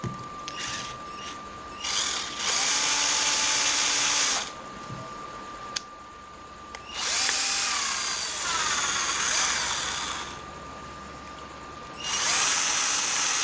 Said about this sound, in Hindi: इसके बाद आपने इसके आर पार एक होल करना है